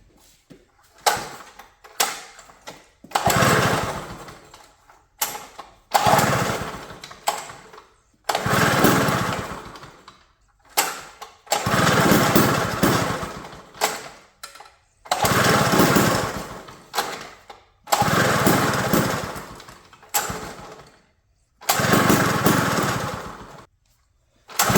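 A small two-stroke engine on a 1950s vintage backyard-built mini bike runs in repeated loud bursts, catching for a second or two and then cutting out with short silences between, its rough buzzing rising and falling across the whole stretch.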